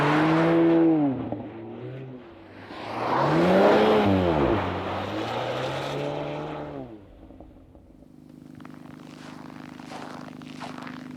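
A VW T-Roc R driving on an ice track, its engine revving up and down in sweeping pitch changes with wind and tire noise, then settling to a steady idle drone.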